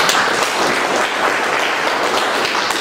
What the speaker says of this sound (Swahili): mjipigie makofi.